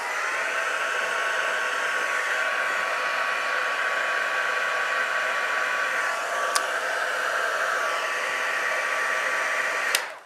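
Hair dryer blows steadily on wet paint for a DIY fairy craft kit, a constant whooshing roar with a faint tonal whine, close and uninterrupted before cutting off at the end.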